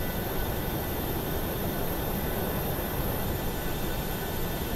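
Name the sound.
airplane climbing after takeoff with flaps up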